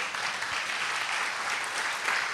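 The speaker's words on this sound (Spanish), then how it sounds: "de un aplauso al Señor," Church congregation applauding during a sermon, a dense, sustained roar of many hands clapping at once, steady and fairly full, with no voice standing out.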